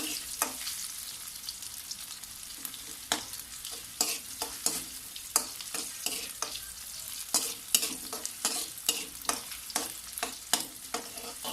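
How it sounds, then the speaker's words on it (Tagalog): Ginger sautéing in butter in a pan for arroz caldo, a steady close sizzle broken by frequent sharp scrapes and taps of a utensil stirring, with no talking. "Lutuin muna natin ang luya."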